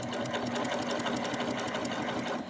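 A Baby Lock Applaud sewing machine runs steadily in a wide cover stitch, its rapid even needle chatter humming continuously and close.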